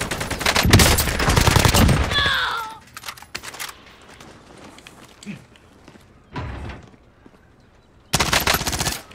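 Bursts of automatic machine-gun fire in Warzone on Rebirth Island, with AK-47 fire among the gunfights. Dense rapid fire fills the opening seconds, then sparser distant shots and thumps follow, and a loud burst returns at the end.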